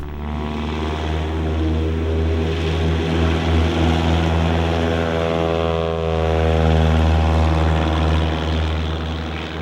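A Super Cub-type bush plane's engine and propeller drone steadily and loudly, a close, continuous buzzing hum with slight swells in pitch.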